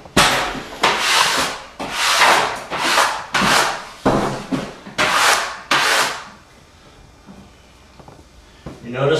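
Wallpaper being smoothed flat against a wall, with about eight close, steady sweeping rubs in an even rhythm, each a broad papery swish, before the strokes stop and the room goes quiet.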